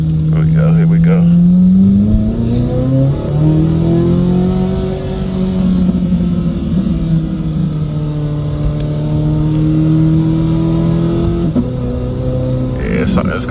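A car in sport mode accelerates through a small curve, its engine note rising and falling with smooth gear shifts, loud and close from inside the cabin, with a brief voice near the end.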